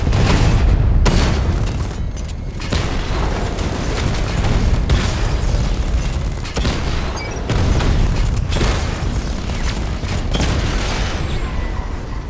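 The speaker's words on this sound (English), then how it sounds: "Your 60mm cannon will penetrate these heavily armored units, but it'll take a few direct hits to destroy them." Heavy 60mm cannon fire from the Batmobile in the video game Batman Arkham Knight, pounding armored enemy units: dense, loud booms and blasts layered with mechanical clatter, running continuously with sharp breaks between salvos.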